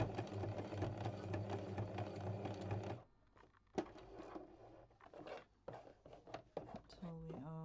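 A sewing machine runs fast and steadily for about three seconds of free-motion straight stitching around a circle, then stops. Clicks and handling noises follow, and a voice speaks over the machine.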